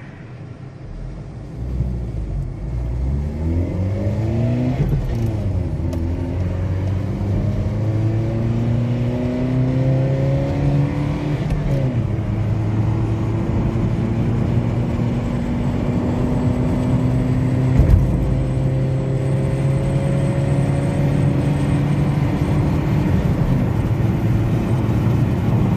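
A Suzuki Liana accelerates hard from 0 to 100 km/h. The engine note climbs steadily through each gear, with clear drops at the shifts, under a constant rumble of road and wind noise heard from inside the car.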